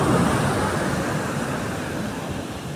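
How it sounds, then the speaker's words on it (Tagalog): Heavy surf roars continuously at Paratong, Bangar, La Union, a dense wash of breaking waves that fades slightly toward the end, with no talking. "Malalakas po ang alon dito."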